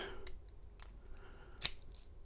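A freshly cut key turns in a KIK lock cylinder, making a few quiet, brief metallic clicks and one sharper snap near the end, close and alone.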